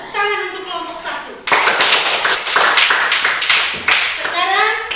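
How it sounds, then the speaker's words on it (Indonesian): Children in a classroom burst into loud, dense applause that goes on for several seconds, with children's voices and a teacher talking just before it. "Tepuk tangan untuk kelompok 1."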